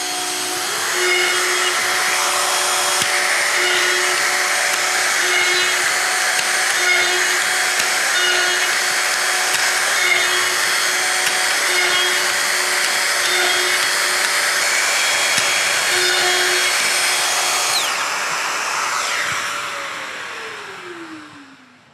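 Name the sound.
drill boring holes in cabinet side, Festool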